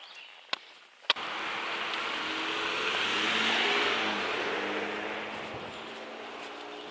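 A car passing on a road beside a hiker, a near, loud engine roar that swells and then fades away, with a couple of sharp footstep-like knocks just before it arrives.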